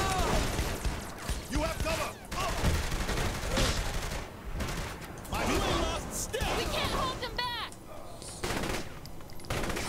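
Rapid bursts of video-game gunfire from Saints Row: The Third, loud and close, with machine-gun rattles and single shots across the whole stretch, plus crashes, while a player talks over it.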